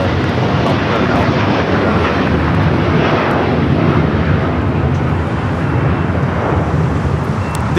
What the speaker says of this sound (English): This is United Airlines Flight 39 taking off to Tokyo, Haneda, the 787-10 Dreamliner